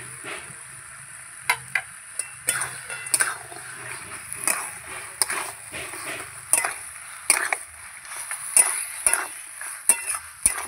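Spinach being stirred in a pan with fried lentil dumplings (bori), a soft steady sizzle under repeated scraping strokes and occasional light clinks of the spoon against the pan, close and continuous.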